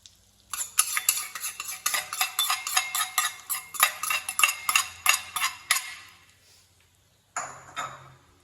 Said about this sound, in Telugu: ఇప్పుడు ఈ తాలి పంట మొత్తం అన్నానికి పట్టే విధంగా కలిపేసుకుందాం